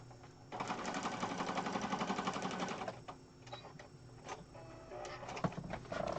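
A sewing machine stitches ribbon across masterboard scraps for a junk journal: a close, steady mechanical whir with rapid needle ticking for a couple of seconds, then lighter, stop-start stitching.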